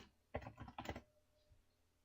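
A burst of quick keystrokes on a computer keyboard while a numerical value is entered into a field, three clustered taps then quiet, fairly faint and close.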